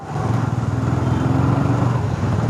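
Loud, steady engine drone of a Bajaj Pulsar NS200 motorcycle with a loud exhaust, idling and revving close by at a roadside police check, with a low throbbing pulse held throughout.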